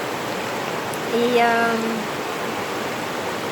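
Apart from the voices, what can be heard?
river rapids flowing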